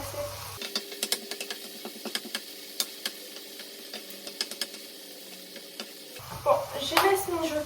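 Yellow pepper filling simmering in a pan, a soft steady bubbling with faint crackles and small taps, followed by a louder stirring scrape at the close.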